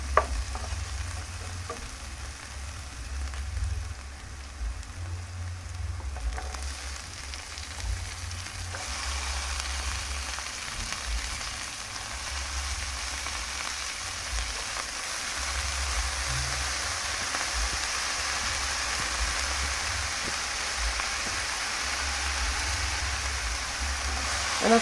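Cabbage stir-fried in a pan with garlic for a chicken and cabbage dish hisses in a continuous rain-like sizzle for about twenty-five seconds, with a low hum underneath and soft stirring scrapes; the sizzle grows brighter partway through, and nobody speaks.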